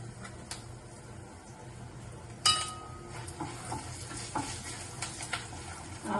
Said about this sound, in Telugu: ఇప్పుడు ఆవాలు వేసుకుందాం